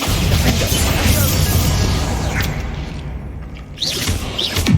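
A Bombarda explosion spell goes off inside a tomb in Hogwarts Legacy, a loud crashing boom with debris and rumble, then a lull and further whooshing hits.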